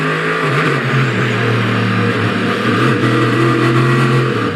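Onboard a Corvette C7.R race car at Long Beach, the engine drones loud and close as the driver feathers the throttle, the pitch wavering and dipping slightly rather than climbing to full power.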